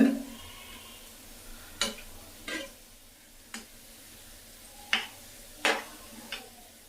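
Fritters (bora) fry in oil over a medium gas flame as the pan is shaken, faint sizzling broken by about seven sharp scraping clinks of the utensil at irregular intervals.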